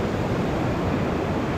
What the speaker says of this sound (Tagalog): Parang may alon na naman nga.